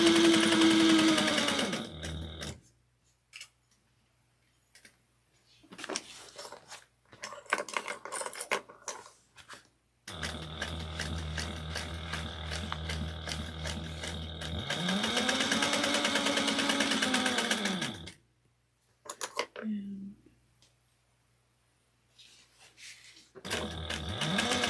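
A sewing machine stitches a seam up the center of fabric in several bursts of rapid, steady running, stopping between runs, close and loud in a quiet room.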